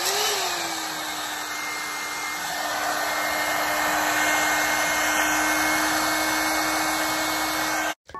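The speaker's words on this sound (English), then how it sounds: "I'm going to be using the same blow dryer I did the last time I trimmed my hair" A blow dryer runs steadily on a low setting with a constant whirring hum, close by, cutting off abruptly at the end.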